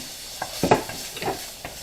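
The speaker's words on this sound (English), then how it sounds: "as I was cooking it, I was chopping it up as well with my spoon to make them, you know, bite-sized pieces" Chicken pieces sizzle in a pan while a spoon stirs and chops them into bite-size bits, soft frying hiss broken by a few quick scraping clinks, close and brief, no talk.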